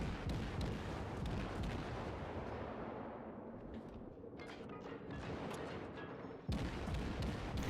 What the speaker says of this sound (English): Firing a shell at a fleeing enemy cruiser, the Kuma picks up her second kill